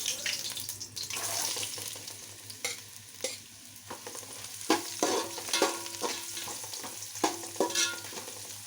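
Carrots frying in a pan for chicken biryani with cardamom and cloves, a quiet sizzle under repeated scraping stirs that come as irregular clacks and shuffles, louder toward the end.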